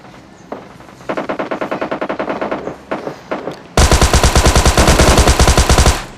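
Rapid automatic M416 rifle fire in a shooter video game, a shorter broken series of loud bursts followed by a denser, louder continuous stream of shots, with no talk.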